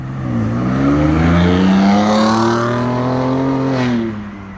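A next-generation Ford Ranger Raptor with an aftermarket exhaust revving hard, a loud, close engine note climbing in pitch and holding for several seconds before dropping off, with no talking.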